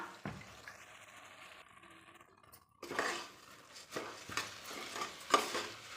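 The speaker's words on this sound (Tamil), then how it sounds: "நல்லா ஒரு கிளறு கிளறிட்டு" Metal spoon scraping and clinking against a pot as rice and dal are stirred, with soft sizzling; the scraping grows louder and busier in the second half.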